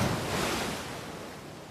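Ocean surf breaking on the beach at Santa Monica Pier gives a broad, close wash of noise that swells and slowly recedes, with wind buffeting the microphone.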